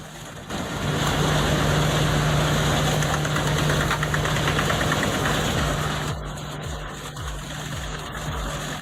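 A Cat C27 engine of over 1,000 horsepower drives a debarker and chipper working dried spruce logs, giving a loud, continuous low roar with a heavy throbbing hum that eases off partway through while mechanical rattling continues.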